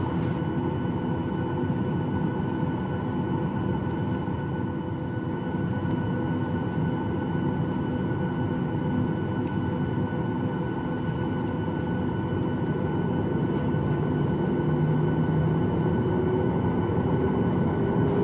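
Airliner jet engines during a takeoff roll on the runway, a steady dense roar and rumble that runs unbroken and loud for the whole stretch, with no voices over it.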